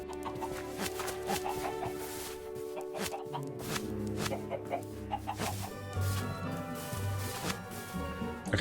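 Nine chickens on a Minecraft homestead cluck in steady overlapping bursts, close and fairly loud, with a low murmur beneath.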